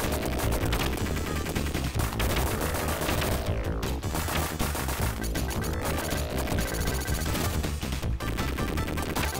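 Arcing bullets fire in Contra: The Hard Corps as rapid, continuous gunfire and impacts, loud and dense throughout, layered with game music and crashing effects.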